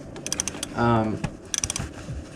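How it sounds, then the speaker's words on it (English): A hand ratchet works on the upper transmission mount bolts of a car, giving bursts of quick close clicks around a brief grinding pull as the bolt turns. "Right now I'm loosening the top, the trans bolts that are touching the transmission"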